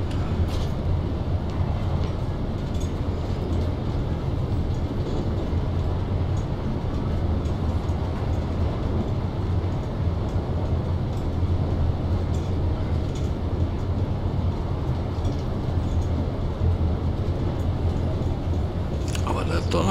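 A BR110 regional train in Train Simulator 2022 rumbles and rattles steadily through a station, a continuous loud rolling roar of wheels and carriage noise lasting throughout, with a voice occasionally heard over it.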